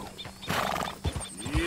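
A Tennessee Walker horse being mounted in Red Dead Redemption, with a short snort and whinny, a few hoof clops and saddle movement, close and brief, with no talk.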